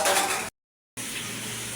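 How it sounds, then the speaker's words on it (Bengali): Okra (ladies finger) frying in a pan without fish, a steady sizzle with stirring and light utensil clinks, cut by a half-second silent gap midway, then the sizzle resumes at the same level. "মাছ ছাড়া ভাজি করব ঢ্যাঁড়স"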